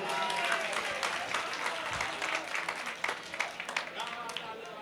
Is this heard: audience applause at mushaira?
yes